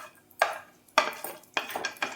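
Cashews and almonds tumble into a pan for roasting, giving a few separate sharp clattering rattles with short pauses between them, close and fairly quiet with no talk.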